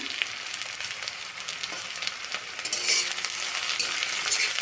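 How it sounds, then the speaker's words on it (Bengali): Chopped onions and slit green chillies sizzling in hot mustard oil for egg masala curry, a dense continuous crackle with stirring scrapes that grows slightly louder midway. "একটু পেঁয়াজগুলো নাড়াচাড়া করে নেব"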